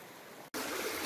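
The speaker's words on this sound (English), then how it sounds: "I hope you can hear me over the sound of the water" Stream water flowing beside a hiking trail, a steady broadband rush that grows louder after a brief gap, close and continuous with no talk.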